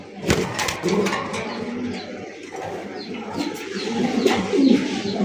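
A pair of Bombay pigeons coo close by in repeated soft, throaty rolls, with rustling and faint chirps around them and no talk.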